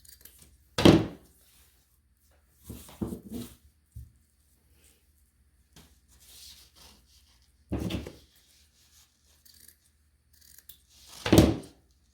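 Scissors snip through wreath-making material in four or five separate cuts spaced a few seconds apart, close and fairly loud, with quiet pauses and small handling rubs between them.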